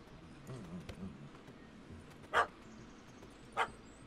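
Two short, sharp dog barks in The Witcher 3: Hearts of Stone, spaced about a second apart over a quiet ambient game backdrop.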